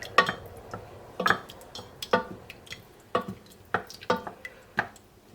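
A spoon stirring ground cumin into rice in a cooking pot, giving about eight sharp metallic clinks and scrapes against the pot at a loose, uneven rhythm, close and clear with no voices.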